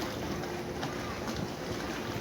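A fishing trawler passes on the Padma river, heard as a continuous low engine drone blended with wind buffeting the microphone and water noise along the riverbank, steady throughout with no talking.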